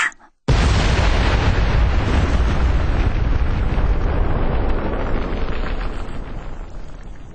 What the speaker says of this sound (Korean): 굴 안이 미어지는 듯하면서 다이너마이트가 터졌다.